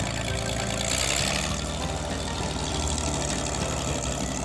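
A restored Oliver 1800A tractor with a rebuilt Waukesha engine runs steadily at idle, a loud, close, rough and knocking rumble that stays even throughout.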